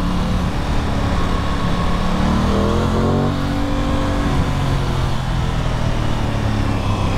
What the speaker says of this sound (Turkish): Motor sesi güzel.